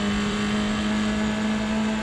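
A Formula 3 race car at full throttle through a corner at Aragon in RaceRoom Racing Experience, a steady loud high engine drone with no change in pitch over the short stretch.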